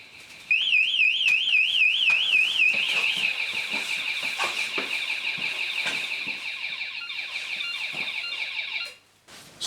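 A burglar alarm, an ADE Gen 4 installation kit, sounds after its positive terminal is connected: a loud, continuous siren that warbles at first, then holds a steady piercing tone before abruptly cutting off near the end.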